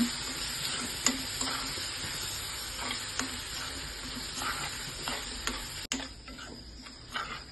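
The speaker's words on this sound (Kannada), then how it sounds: "ಉಪ್ಪಿರೋಂಥ ಹೀರೆಕಾಯಿದು ಚಟ್ನಿನ ಹಾಕ್ಕೊಳ್ಳೋಣ. 1-2 ನಿಮಿಷ ಮಿಕ್ಸ್ ಮಾಡ್ಕೊಳ್ಳೋಣ." A spoon stirs ridge gourd chutney in a hot pan, steady sizzling and frying with periodic scraping clinks of the utensil against the pan, close and fairly quiet, no voices.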